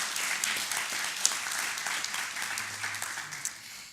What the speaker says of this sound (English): Please join me in giving everybody once again a round of applause.